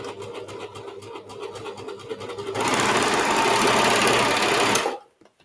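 An overlocker sewing machine stitching a blouse sleeve: a steady rapid mechanical whirring that speeds up and grows louder midway, runs flat out for a couple of seconds, then stops abruptly, close-up.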